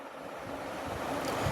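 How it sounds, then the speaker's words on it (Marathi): A soft, steady rushing and bubbling of water heating in a pot, swelling slightly louder toward the end, with no voices. "आता इथे पाण्याला उकळी येत आलेली आहे"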